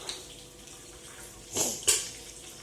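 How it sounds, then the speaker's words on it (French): Broth for a paella being poured into the pan, two short soft splashing pours close by in an otherwise quiet kitchen. "Je vais faire glisser le bouillon dans ma paella."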